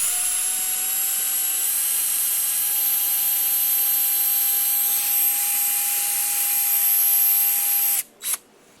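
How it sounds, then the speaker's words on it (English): A power drill runs at a high, steady whine as it bores a hole, the pitch rising a little early on and holding level for about eight seconds before stopping with a couple of short bursts. "let me get a drill"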